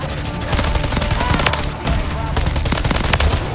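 The TAC Eradicator fires in rapid automatic bursts in the Modern Warfare 3 video game, loud and continuous, with a brief break midway.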